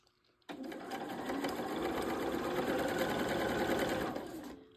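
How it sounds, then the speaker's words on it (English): A Bernina 480 sewing machine with a number 37 foot and a 5.5 millimeter stitch plate stitches fabric in a close, steady, rapid mechanical whirr that starts abruptly, runs about four seconds, then stops. "I'm using my Bernina 480, and I'm using the number 37 foot"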